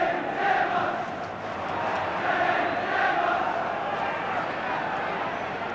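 Liverpool football crowd at a home match against Ipswich Town roaring and cheering as a steady, dense wash of massed voices, swelling slightly in waves, with a commentator talking over it.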